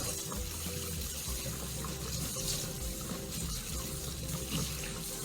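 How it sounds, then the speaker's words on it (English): Tap water runs steadily at a kitchen sink while a cantaloupe is rinsed and scrubbed with a vegetable brush, producing a continuous close splashing and hiss with no talking. "When you turn on your water, you want to go ahead and rinse the outside with your hands, and then you want to use a vegetable brush"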